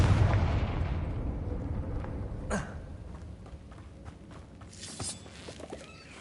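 In the Hogwarts Legacy video game, a Confringo spell blasts with a loud explosive boom that rumbles and fades over several seconds, ending in a smaller pop and crackle, with no voices.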